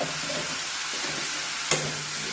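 Mushroom thoran fries in a pan while it is stirred, giving a steady close sizzle with a faint scrape and a single brief clink, and no talking.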